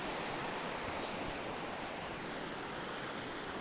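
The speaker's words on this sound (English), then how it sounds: "Yeah, listen to that water." Steady rushing water from a stream in a Southern California autumn setting, a continuous broadband wash that stays even and close throughout with no voices.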